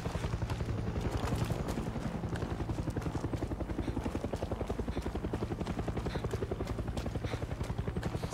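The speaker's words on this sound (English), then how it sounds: "If you put up your guns, the helicopter will stop harassing you." Helicopter from the game Far Cry 6, a steady, loud rotor chop with a fast even pulse that holds throughout, heard alone without talk.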